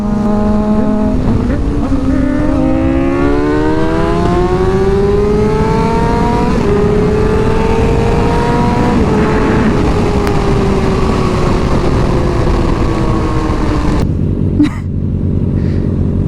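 A Kawasaki ZX6-R 636 sport motorcycle is ridden hard and close by. The engine screams as it climbs through several gears, each one ending in a rising whine, and it drops off sharply near the end.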